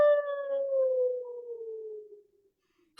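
A man in a wolf mask lets out a short imitation wolf howl, one steady wavering tone that slowly falls in pitch and fades out, heard alone and close.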